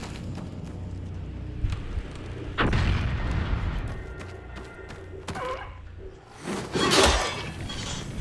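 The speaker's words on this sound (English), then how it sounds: "How did that thing survive a propane bottle explosion?" A propane bottle explodes in Dying Light 2 Stay Human, set in a city, with two heavy booming bursts over a continuous background of game ambience and rumble.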